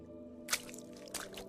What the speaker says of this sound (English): You hear another splash. Your feet feel very wet again.